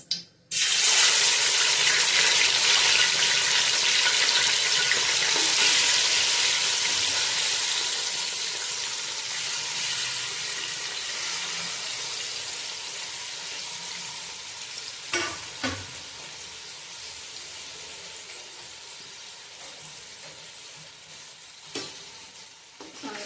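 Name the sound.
mutton frying in hot oil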